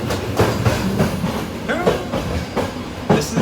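Passenger train rolling between Toruń and Gdańsk in Poland with another train running alongside, steady rumble and rhythmic clickety-clack of wheels over rail joints, heard from inside a carriage.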